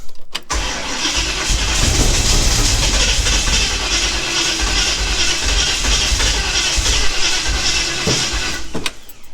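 A Ford Falcon car engine revs loudly and steadily up close for several seconds while its timing is being sorted out, ending abruptly, with no talk over it.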